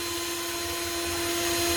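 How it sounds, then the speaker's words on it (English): A cordless drill runs steadily with its trigger held on by a tightened cable tie, giving a constant motor whine with a strong steady tone that builds slightly in loudness over a couple of seconds, no voices. "So I'm going to pull that tight, which will turn the drill on."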